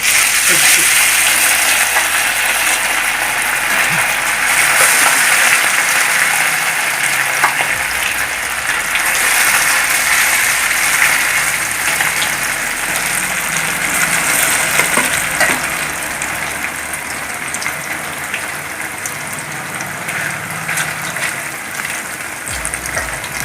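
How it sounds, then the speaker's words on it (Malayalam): Loud, steady crackling sizzle of marinated chicken deep frying in hot coconut oil for chilli chicken, close up and continuous, easing slightly toward the end. "ചിക്കൻ ഇപ്പോൾ ഒരു അരമണിക്കൂറായിട്ട് ഞാൻ ഇത് കലക്കി വെച്ചിട്ടുണ്ടെങ്കിൽ നമുക്കത് വറുത്തെടുക്കാം"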